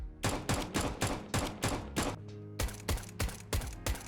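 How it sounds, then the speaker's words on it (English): Rapid suppressed USP pistol shots from Counter-Strike: Global Offensive fire in a steady rhythm, two strings of about seven sharp muffled cracks separated by a brief reload-like pause. "these are nothing compared to the CSGO version of the USP because it sounded a whole lot better"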